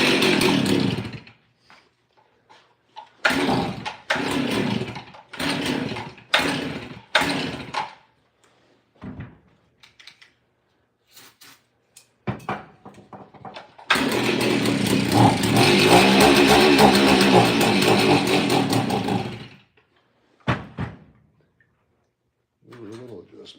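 A Stihl chainsaw engine, its low-speed mixture running a little rich, fires in short rough bursts and blips, then roars steadily at full throttle for several seconds before dropping back to sputtering blips.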